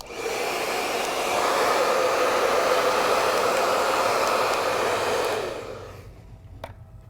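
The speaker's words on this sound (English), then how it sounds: "All right, so now I'm going to grab my hair dryer." A household hair dryer blows steady heat onto a vinyl craft decal, a loud continuous whoosh running for about five seconds before it switches off and fades into a quiet room.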